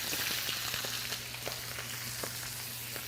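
Garlic fries in oil in a wok with a steady, loud sizzle throughout and a few light scrapes and clinks as it is stirred.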